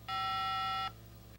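A key beep from a 1994 Motorola Deluxe Alpha pocket cellular phone as Function 5 is pressed: one loud, steady electronic tone lasting under a second, then quiet, with a soft click at the end.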